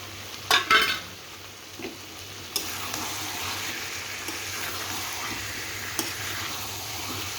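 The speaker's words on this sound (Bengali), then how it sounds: "আলুগুলো দিয়ে দিব, একসঙ্গে কষাবো।" Potatoes and mutton stirred and sautéed together in a pot for curry, with a steady soft sizzle under a few sharp clanks of a utensil against the pot near the start.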